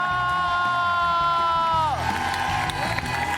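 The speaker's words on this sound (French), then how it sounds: "On applaudit les artistes de ce soir, Ariane Brodier, Tarek Boudali, Alice, David" Studio audience of a French TV quiz show cheering and whooping loudly, a sustained roar with a high held shout that drops away, applause blending in underneath.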